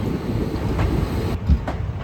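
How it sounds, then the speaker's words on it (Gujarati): Low rumbling train noise with steady rolling and faint clatter of wheels as a train arrives at Gandhinagar railway station, a moderately loud passing or slowing rail car, no voices. "ગાંધીનગર રેલવે સ્ટેશને ગાડી પહોંચી ગઈ છે"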